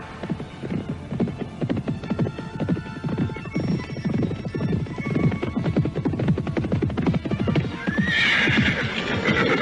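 Horses galloping with riders on a long journey, with rapid, steady clip-clop hoofbeats throughout, whinnying and neighing, and a rising shrill sound near the end.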